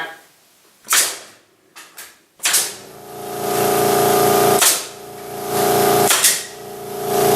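Nails driven into scrap lumber for raised beds: four loud, sharp impacts spaced a second or two apart over a steady droning hum, close by and with no speech.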